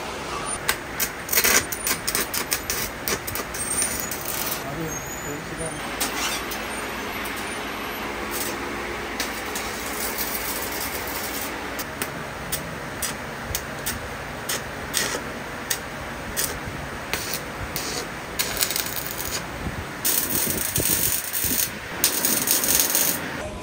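Arc welding a rod onto the windshield mount of an NS 200 motorcycle during a touring modification: a steady, dense crackling and sizzling with sharp ticks, running continuously for over twenty seconds with no talk.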